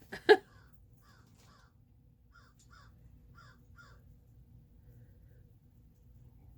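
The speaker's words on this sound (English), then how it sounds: "There's a crow outside the window." A single sharp crow caw rings out from outside a window near the start, followed by fainter distant caws repeating in short pairs over quiet indoor background hum.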